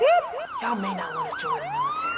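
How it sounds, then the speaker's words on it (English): A police siren wails in repeated rising and falling sweeps, fairly loud and close, with someone talking over it. "That's the sound of the police!"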